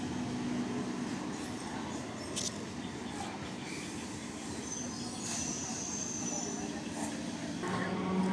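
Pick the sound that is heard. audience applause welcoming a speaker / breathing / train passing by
train passing by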